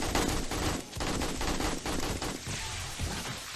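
Rapid automatic turret fire in 7 Days to Die during a night horde attack on an electrified killing corridor, a dense continuous fusillade that dips briefly before resuming.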